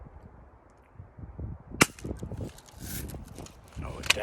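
A 1940 Daisy Red Ryder BB gun fires outdoors, one sharp close crack near the middle and a second fainter snap at the end, with low rustling and handling noise around them.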